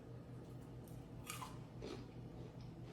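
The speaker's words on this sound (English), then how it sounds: "You guys hear that crunch?" Crisp crunches from biting into air-fried oyster mushrooms, a few close bites and chews over about three seconds, heard alone without talk.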